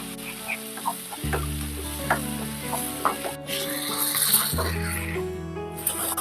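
A spoon stirs lentil chutney into a hot tempering of oil and spices in a pan, with a continuous close sizzle, scraping stir strokes and faint clucking of a chicken in the background.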